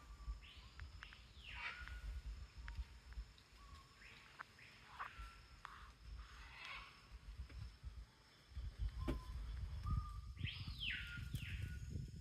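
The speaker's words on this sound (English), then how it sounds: "These are scarlet and red and green macaws that came to visit." Scarlet and red-and-green macaws call at a clay lick in the Amazon rainforest of Manu Park, giving faint, distant harsh squawks spread through a quiet forest background with a low rumble beneath.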